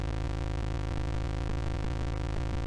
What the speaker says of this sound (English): The sounds you hear in the background is all you get the entire time you play Microsoft Flight Simulator